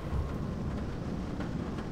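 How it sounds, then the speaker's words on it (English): A thunderstorm with rain in the game Garry's Mod gives a steady, dense wash of rainfall over a low rumbling undertone of thunder, continuous and fairly loud with no voices. "Turned into a storm. Whoa. Whoa! Look at the window! Yeah. It turned rain."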